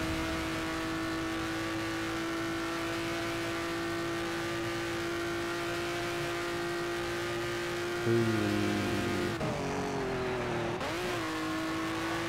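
A Ferrari engine in the racing game Ferrari: Racing Legends holds a steady, loud drone, then revs and shifts sharply near the end with a brief squeal, alone without talk.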